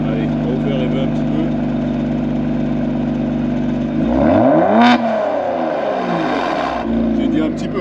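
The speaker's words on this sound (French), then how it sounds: "Eh, la voiture, elle crie." A Kia Stinger GT idles with a steady hum, then its engine is revved hard once, rising to a loud peak and falling away, before a short second blip. People talk nearby.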